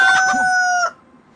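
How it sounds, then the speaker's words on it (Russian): A rooster in the video game DayZ crows once, a bright, drawn-out cock-a-doodle-doo that cuts off abruptly, leaving faint quiet behind. "Здорово, петушок."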